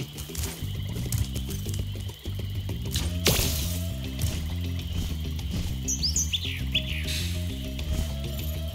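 Bird chirps in Spyro 2 Reignited, Mystic Marsh level, a few short high tweets near the six-second mark over steady game music and ambience.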